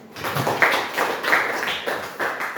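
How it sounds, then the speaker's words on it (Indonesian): Students in a classroom clap for a classmate, a brief patter of uneven handclaps from a small group, fairly close and moderately loud. "Tepuk tangan dulu untuk temannya."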